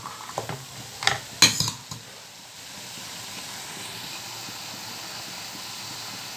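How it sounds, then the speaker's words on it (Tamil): Chopped green chillies go into a hot pan and are stirred with a utensil: a few sharp clinks and scrapes against the metal, then a steady, close sizzle that carries on with no voices. "மிளகாய் அரிஞ்சு வச்சுருக்கேன், அதையும் இதோட நான் சேர்த்துக்கிறேன். சேர்த்துட்டு இது கொஞ்சம் நல்லா கிளறி கொடுக்கலாம்."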